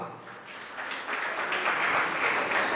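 Audience at a Hindi religious discourse breaking into applause, a dense, steady wash of many hands that swells and holds at full strength, with no speech over it.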